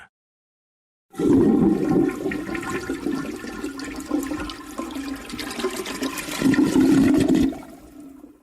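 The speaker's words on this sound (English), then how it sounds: "After using the toilet and flushing it, he washes his hands" A toilet flushes right after a moment of silence: a loud rush of water that swirls for several seconds, surges again near the end, then fades into a softer refill trickle.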